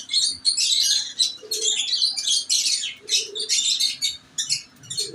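Kothi breed pigeons at a rooftop loft, heard as dense bursts of bright chirping with soft, low coos underneath, close by and without talk.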